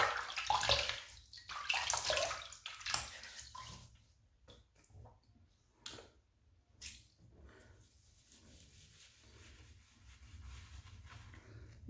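Water runs from a tap at a bathroom sink while a man wets his face for shaving, a splashing rush that is strongest at first, then breaks into softer trickles and splashes, fairly quiet and close.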